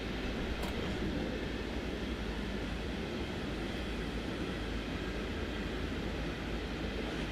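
A German electric train powers up in a train simulator game on the Rhine Valley route, a dense, steady roar and hum filling the cab without pause and with no talking.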